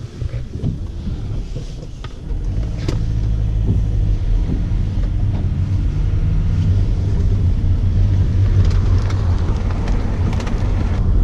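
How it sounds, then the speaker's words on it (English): A car driving in on a wet forest road in Galloway Forest Park near Loch Grannoch in March, heard as a steady low engine and road rumble that swells after the first couple of seconds, with some wind buffeting. "this is just the start of our journey as we drive in."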